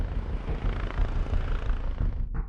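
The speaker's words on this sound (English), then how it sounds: "A police helicopter is scrambled to assist the search." A police helicopter flies overhead on a search, its engine and rotors making a steady, dense rumbling roar that holds throughout.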